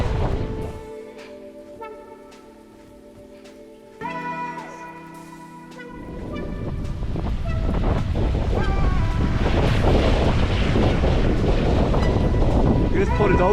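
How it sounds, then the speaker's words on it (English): Strong wind roars across the microphone on an open beach at Two Peoples Bay, with waves and surf swelling underneath and the gusts building louder and steadier toward the end. "Super windy"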